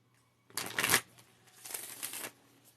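Tarot cards being shuffled by hand, two quick riffling bursts, the first sharper and louder, the second longer and softer, close up in a quiet room.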